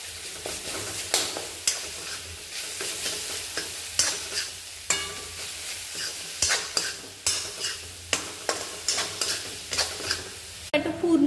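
Ginger-garlic paste sautéing in a pan for a dhaba-style potato masala, a continuous sizzle with repeated rhythmic scraping strokes of a spatula, close and clear, no voices.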